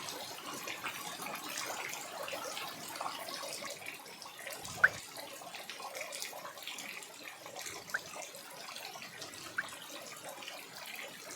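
Rainwater drips into an old mud house, a faint, steady watery trickle with a few isolated sharp drops landing at intervals, heard alone.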